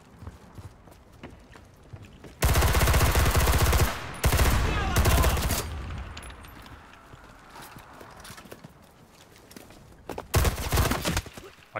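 Bursts of rapid automatic gunfire in the video game Enlisted, two long loud volleys then a shorter one later, with quieter game noise between.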